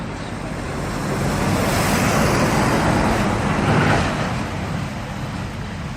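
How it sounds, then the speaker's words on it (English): A massive truck drives past on a road: a broad, loud roar swells over about two seconds, holds near its peak, then slowly recedes into steady background traffic rumble, with no voices. "massive truck just went past"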